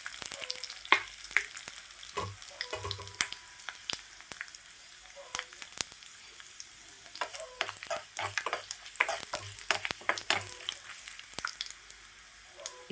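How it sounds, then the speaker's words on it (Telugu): Spices for tempering sizzle and crackle in hot oil: chana dal, mustard seeds, cumin and broken dried red chilies for coconut chutney. Steady close frying with scattered sharp pops and occasional stirring sounds. "ఇప్పుడు ఆయిల్ వేడి అయిపోయిన తర్వాత పోపు దినుసులు అయితే వేసుకుందాము."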